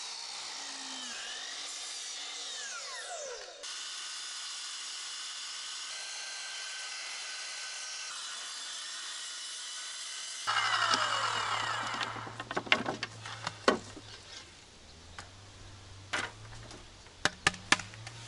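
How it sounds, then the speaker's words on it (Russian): Circular saw ripping wooden boards lengthwise, a loud steady whine running for several seconds, then the mitre saw and sharp knocks and clatter of handling the wooden cladding boards, close by and without speech. "Дождался появления электричества и уже торцовкой приступил к распиловке планкена. А циркуляркой пилил доски вдоль для откосов."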